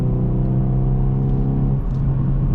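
A Hyundai i30N hot hatch petrol engine accelerates with a loud, steady droning hum heard from inside the car, rising slightly in pitch and easing briefly near the end.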